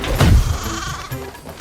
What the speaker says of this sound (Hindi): तभी एक बकरी भागती हुई आई और गबरू से टकरा गई।